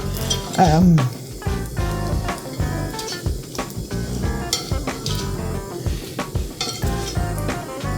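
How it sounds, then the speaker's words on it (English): A fish spatula scrapes and clinks against frying bacon in a Staub cast iron skillet, with repeated metallic taps and scrapes over a constant sizzle, loud and up close. "fish spatula doesn't want to get it out of here"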